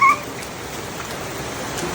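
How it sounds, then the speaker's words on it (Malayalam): Heavy rain pours down in the Philippines, a steady, even hiss of water that fills the whole two seconds without pause, with a brief faint tone near the start and no voices. "ഒരു ഡേ ടൈം കിട്ടിയിട്ട് മൊത്തം മഴ, ഫുൾ മഴ"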